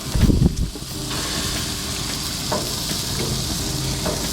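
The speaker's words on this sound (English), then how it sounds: "I'm going to go ahead and stir all this up" Butter and onions sizzling in a pan on an outdoor grill, starting with a few loud stirring scrapes and then a steady close hiss of frying that continues alone.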